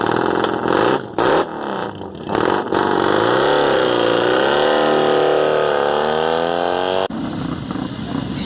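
Vintage motorcycles launching in a drag race at a vintage motorcycle festival, with loud engines revving in short bursts and then one sustained rising roar as the bikes pull away, followed by a quieter rumble.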